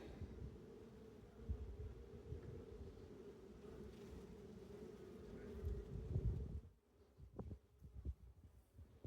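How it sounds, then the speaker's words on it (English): Low, dense buzzing of many honey bees close by around a hive, steady and droning, fading near the end into quieter scattered hums. "Lots of bees on there."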